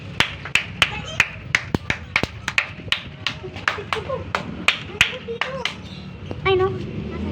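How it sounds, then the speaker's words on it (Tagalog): A few people clap sharp, separate claps outdoors at a pigeon release, the claps irregular and close with short gaps, followed by a brief burst of noise near the end. "Palakpakan nyo lang."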